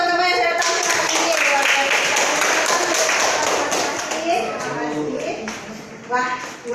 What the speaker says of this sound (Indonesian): Tepuk tangan dulu dong untuk teman-teman yang sudah datang ke sini.